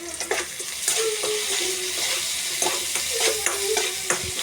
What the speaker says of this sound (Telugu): ఆనియన్స్ ఫ్రై అవుతున్నాయి